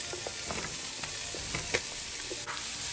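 Mushrooms sizzle in sesame oil in a pan while being stirred, a steady frying hiss broken by repeated short scraping and clicking strokes of the utensil, close and fairly loud, with no talk.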